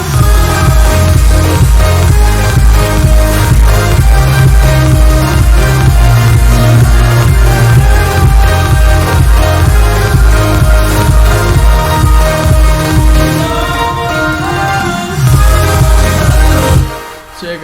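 Dense, loud electronic music fill drop plays continuously with a driving low-end beat and layered synth textures, briefly thinning near the end before a short final burst, with no talking.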